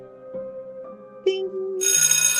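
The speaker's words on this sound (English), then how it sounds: "there's going to be a little bell ring" A little chiming bell rings at the close of a podcast, a bright tonal ding that sustains briefly after a few soft melodic tones, clear and close with no talking.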